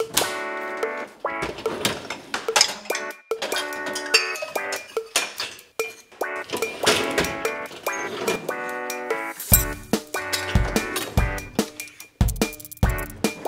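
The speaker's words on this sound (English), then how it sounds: "I'm gonna empty the dishwasher." Dishes, pots and cutlery clink and clatter repeatedly as a dishwasher is emptied in a country home kitchen, with irregular close knocks and chimes throughout.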